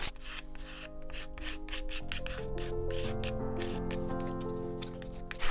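A small piece of cardboard scraping across wet paint on a mixed media painting, a steady close rubbing and rasping that carries on throughout while low tones run underneath.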